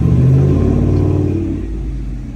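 A Ford F150 Trail Boss pickup drives along the road, a steady low engine rumble and road drone from inside the cab that eases slightly toward the end, with no talking.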